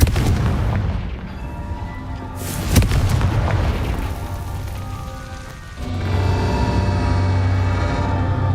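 A blasting-spell explosion in Hogwarts Legacy booms with a low rumbling impact, a sharp crack partway through, and a sustained roaring tail over steady game ambience.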